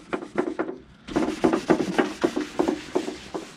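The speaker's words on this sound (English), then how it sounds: "That takes it off, takes the paint right off." Rhythmic back-and-forth sanding strokes scraping paint off a car fender on a 1JZ drift car restoration, close and steady with repeated rasping rubs and a brief pause near the start.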